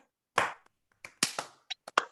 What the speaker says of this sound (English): All right, everybody unmute and let's clap and close this meeting.